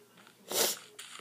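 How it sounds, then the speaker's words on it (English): A single close, loud sneeze bursts out in the middle of a short quiet stretch, followed by a faint breathy sound, during casual talk while playing Minecraft Pocket Edition multiplayer. "I had to sneeze."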